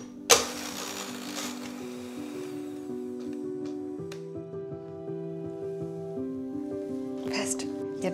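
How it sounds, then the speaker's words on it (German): An electric mixer whips 200 ml of cream until stiff, a close, steady motorised whir whose pitch shifts in steps as the speed changes, with a clatter at the start and brief rattles near the end. "Hier habe ich 200 Milliliter Sahne, die schlage ich jetzt einmal steif."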